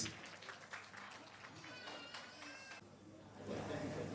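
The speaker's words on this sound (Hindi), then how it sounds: "उनका जोरदार तालियों से स्वागत कीजिए सब लोग" An audience at an Indian wedding sangeet ceremony applauds a couple coming on stage, a steady wash of clapping mixed with crowd noise and faint background music.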